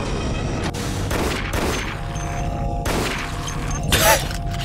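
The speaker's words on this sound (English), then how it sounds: "His head exploded." An enemy's head explodes in the dark corridors of the Dead Effect shooter game, a sharp burst among several loud impacts and booming shots in the middle of continuous game noise.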